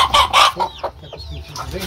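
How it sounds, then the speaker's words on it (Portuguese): Hens clucking in a chicken coop with chicks, a few short close clucks and squawks in quick bursts, then softer chirps and calls from the birds nearby. "Agora eu vou pegar outra galinha para colocar aqui."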